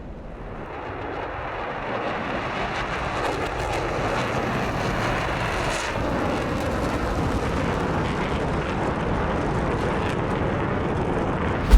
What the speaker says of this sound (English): gear is coming up.